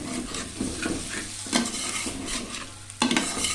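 Two medium-cut onions fry and sizzle in a pan for Hyderabadi bhindi gosht, with a steady hiss broken by repeated spoon scrapes and stirs, louder at a couple of points, close and without talk.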